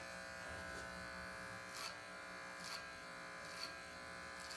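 Electric hair clippers buzz steadily and close up during a men's clipper and scissor haircut. Soft swishing strokes recur about once a second over the constant hum, with no talking.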